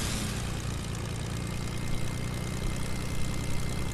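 An airplane engine in the Fortnite video game drones steadily with a low propeller hum and a constant rumble, loud and continuous with no voices.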